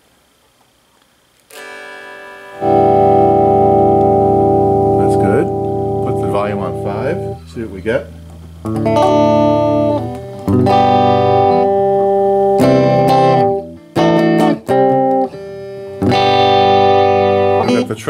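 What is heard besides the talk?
electric guitar through amplifier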